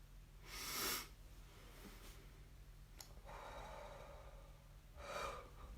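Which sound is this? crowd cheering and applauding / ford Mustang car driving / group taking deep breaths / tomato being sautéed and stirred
group taking deep breaths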